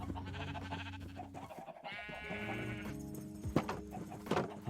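Blocky sheep in a Minecraft-style survival server bleat several times, wavering calls set against background game sounds and music, with a louder bleat near the end.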